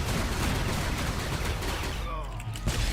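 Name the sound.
assault cannons firing in Star Wars: The Old Republic video game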